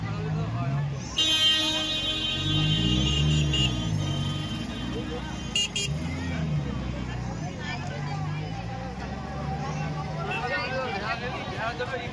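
Busy road traffic with passing vehicles and a loud, sustained car horn blaring near the start, under a constant street rumble and crowd babble, while people talk nearby throughout.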